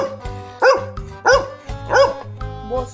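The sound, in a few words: dog barking for a betel leaf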